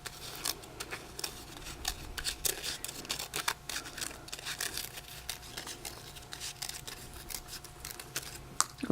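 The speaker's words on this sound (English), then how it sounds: "I'm just going to pop my scissors in there as well and cut that center out" Scissors snipping through paper to cut out the center of a number 6 shape, a run of quick, close crisp snips and rustles with no talking.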